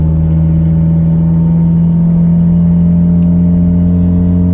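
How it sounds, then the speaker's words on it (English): An Axion-built boosted 11th-generation Honda Civic hatchback cruises along with a loud, steady drone of engine and drivetrain, and a continuous tonal transmission gear whine runs through it. "Can you hear the gears whining?"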